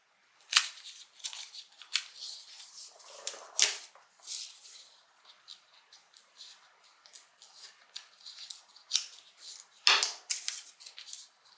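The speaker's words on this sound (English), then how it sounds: "I need to punch a hole in those first." Leather punch or rivet-hole tool striking a crossbody bag strap during sewing work, heard as a string of sharp, close clicks and taps in an irregular rhythm, with one louder snap near the end and no talking.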